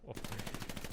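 Machine-gun fire in the Hell Let Loose video game, a rapid evenly spaced volley of sharp shots close and loud for about a second, with faint talk underneath.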